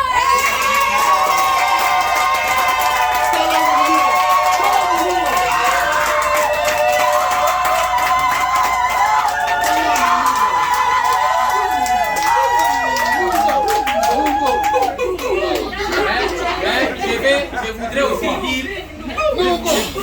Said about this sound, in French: je demande à notre famille, pas à votre famille, d'acclamer très fort